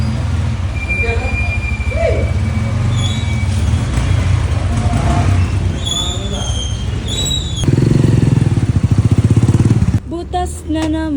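A brand-new motorcycle engine runs for its first start with a rough, steady rumble that swells into a louder throaty stretch near the end, with people talking over it.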